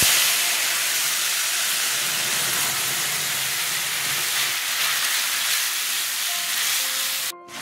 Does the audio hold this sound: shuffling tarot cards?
no